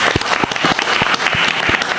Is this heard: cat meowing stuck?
no